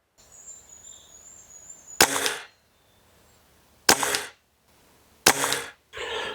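An Air Arms TX200 air rifle firing pellets, three sharp, close cracks spaced a second or two apart, each followed by a brief mechanical rattle, with a faint high whine early on.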